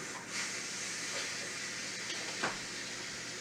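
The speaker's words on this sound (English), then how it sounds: "now I'm going to go ahead and release the remainder of that steam" Instant Pot pressure cooker venting its remaining steam after being unplugged while cooking lima beans with okra and ham hocks, a steady broadband hiss held at fairly constant level for several seconds.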